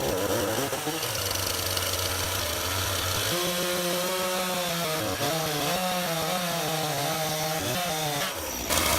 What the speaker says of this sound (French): il n'y a pas mieux que la tronçonneuse